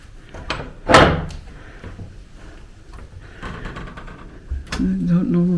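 A house door being shut, a single sharp thud near the start followed by faint shuffling and handling sounds, with a voice talking toward the end.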